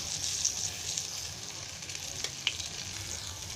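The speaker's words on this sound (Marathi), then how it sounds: "आणि मस्त हे कडक तळून घ्यायचे गॅस बारीक करून" Rawas (Indian salmon) fish pieces shallow frying in a pan over low heat, a soft steady sizzle and crackle with an occasional sharper pop, heard alone.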